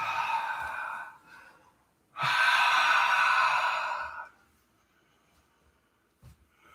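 A Bikram-style yoga breathing exercise: a breathy exhale, a pause, then a longer, louder rush of breath, followed by near silence and a faint soft sound at the end.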